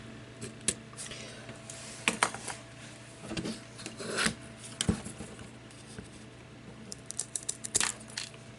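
Scissors snipping the end off a length of ribbon for a wrapped cross ornament, several faint close snips and light rustling handling sounds with a steady low background hum.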